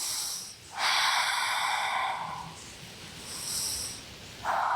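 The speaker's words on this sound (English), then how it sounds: "Take a few restorative breaths right here." Slow, audible restorative breaths during a yoga session: a long breathy inhale or exhale, a pause, then further soft breaths, close and clear in a quiet room with no talking.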